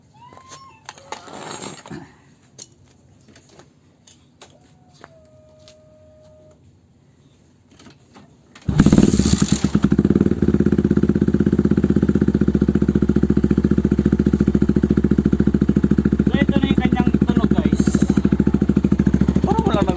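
A motorcycle with a modified exhaust pipe starts up partway through and then runs loud and close, its engine note holding steady and thick with rumble; quieter handling noises and a brief tone come before it.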